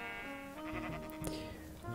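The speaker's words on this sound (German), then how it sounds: "ui, braune Schafe" Brown sheep bleating in Minecraft with the Industrial Craft 2 modpack, a wavering, nasal game bleat heard close and loud over a steady background hum, with a short click partway through.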